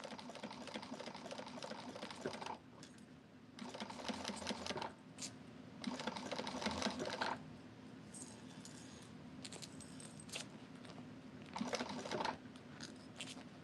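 A home sewing machine stitching slowly on a quilting project, with bursts of motor whir and needle clatter that start and stop in short runs, fairly quiet and close, separated by pauses.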